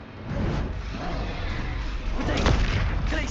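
A Confringo explosive spell fires in the Hogwarts Legacy video game, a loud booming blast with a rumbling, sustained body and a sharper burst of impact near the end.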